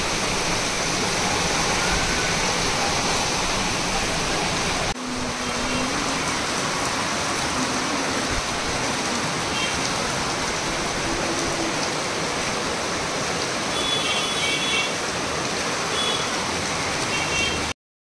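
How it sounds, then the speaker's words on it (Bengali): Heavy rain pours down outside in a dense, unbroken roar that stays loud and steady from start to end. "এখন ওয়েদারটা দেখাচ্ছি এই ঝমঝমিয়ে বৃষ্টি পড়ছে"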